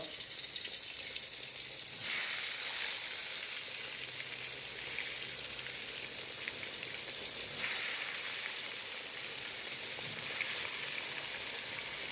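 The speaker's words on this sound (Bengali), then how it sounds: "আমি এখন কড়াইতে তেল দিয়ে দিলাম। বেগুন ছাড়ব।" Eggplant frying in oil in a wok, a steady soft crackling sizzle with fine spattering that holds at an even low level throughout, no voices.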